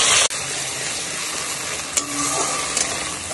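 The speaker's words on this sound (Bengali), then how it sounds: "এবারে চিংড়ি ভাজার তেলের ভিতরে 2 চামচ পরিমাণ দই দিয়ে দিলাম।" Sour yogurt hits hot oil left from frying shrimp, setting off a sudden loud, steady sizzle with a couple of faint clinks and no voices.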